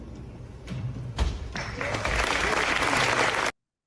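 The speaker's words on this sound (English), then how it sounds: "incredibly tepid applause" Light, lukewarm audience applause after a speech about protecting children and supporting families online. It starts thin, swells into a steady patter of clapping, then cuts off abruptly.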